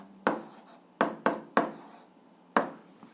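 Pen strokes on paper while an algebra answer is written out for an 8th-grade fraction-reduction exercise, five short scratchy taps and scrapes in an uneven rhythm, close and fairly quiet with no talking.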